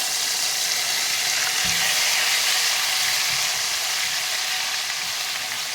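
Ginger sizzles and fries in hot oil while making chicken pickle, a steady close crackling hiss with a couple of soft stirring knocks and no talking.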